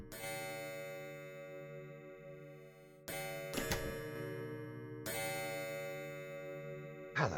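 A clock in the game Forest of Drizzling Rain chimes over and over, loud ringing bell tones each struck sharply and left to hum and decay before the next strike, with no talking.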